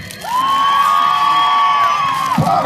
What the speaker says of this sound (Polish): Najpierw panie, poproszę o głośne piski.